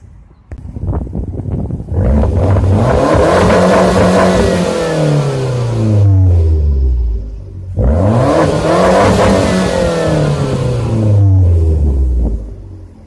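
A Fiat 500 Abarth engine revs hard and accelerates twice, pitch sweeping down through gear changes in a loud, throaty roar, with a brief lull between the pulls.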